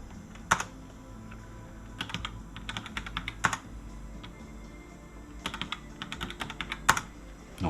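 Someone types a password on a computer keyboard during an Arch Linux installation, with quick bursts of clicking keystrokes separated by short pauses, close and fairly quiet.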